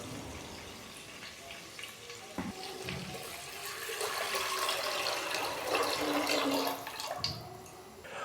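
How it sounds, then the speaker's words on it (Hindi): Water from a glass poured into a cooking pot of rice, a soft, close splashing and gurgling that swells in the middle and tapers off, alone without talk. "तो इसके अंदर अभी मैं पानी डालूंगा 3 गिलास"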